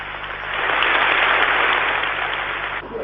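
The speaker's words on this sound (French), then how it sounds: "le message adressé par le président de la République, appelant à l'effort, a été très applaudi" Loud, sustained applause from a crowd at a French political party meeting, greeting a message from the President of the Republic, swelling quickly and holding steady before tapering slightly at the end.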